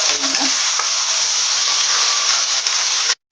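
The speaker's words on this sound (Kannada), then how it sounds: "ಕಟ್ ಮಾಡಿ ಇಟ್ಕೊಂಡಂತಹ ಈರುಳ್ಳಿಯನ್ನು ಹಾಕಿ ಬ್ರೌನ್ ಕಲರ್ ಬರುವ ಹಾಕಿ ಫ್ರೈ ಮಾಡ್ಕೊಳ್ಳೋಣ" Chopped onions frying for Kannada-style mint rice (pudina rice) give a loud, steady broadband sizzle in a hot pan, constant for about three seconds, then cut off abruptly.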